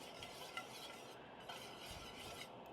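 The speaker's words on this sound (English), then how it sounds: "whisking the whole time to make it stay this thick, luxurious sauce" A whisk stirs a thick, creamy sauce in a pan over low heat, giving a steady scraping, swishing texture with faint sizzle throughout, close and moderately quiet with no talking.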